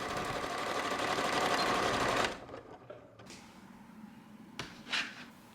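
A sewing machine runs in a steady, loud whir as it stitches tucks into an oversized blouse, then stops abruptly, followed by a few soft clicks and handling noises of fabric and machine parts.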